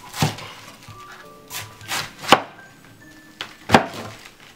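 A knife cuts through a head of cabbage on a cutting board during preparation of salted cabbage, giving about five separate crunchy strokes with short pauses between them, close and clear.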